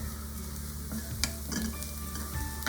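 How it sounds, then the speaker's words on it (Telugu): Food frying in ghee in a pan sizzles steadily and close, with scraping stirs and a few sharp clicks of a utensil against the pan, with no talking. "రోస్ట్ స్మెల్ వస్తుంది కదా, అంతవరకు ఫ్రై చేసుకోండి."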